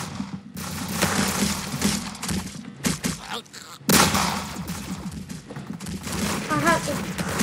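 Rapid video-game gunfire crackles in bursts and volleys, loud and close, with short gaps between salvos and a sharp blast midway, while a player talks over parts of it.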